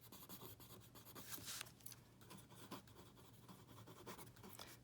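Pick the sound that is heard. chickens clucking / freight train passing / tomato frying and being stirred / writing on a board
writing on a board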